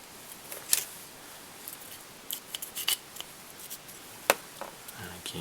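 Small scissors snip fly-tying thread in a few quick, crisp cuts at close range, with faint handling noises between the snips.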